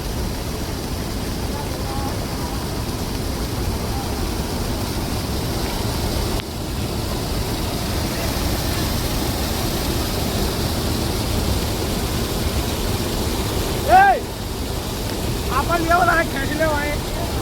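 Floodwater rushes steadily through a river in Orpa village, Narmada district, after the first monsoon rain, a constant broad roar with a few brief voices near the end.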